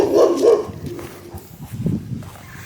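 A dog barks outdoors on a walk near a yard, a loud burst at the start followed by fainter, scattered barks and yips with background noise.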